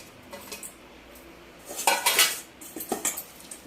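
Onion pakodi batter with green chillies being mixed in a bowl, heard as clinking and scraping of a utensil against the dish, quiet at first and then louder in short bursts.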